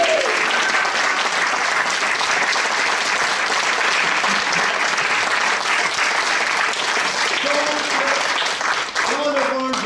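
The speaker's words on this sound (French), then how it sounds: "Allez, on applaudit." Sustained applause from a theatre audience after an amateur play, steady dense clapping for about ten seconds with a few voices calling out near the end.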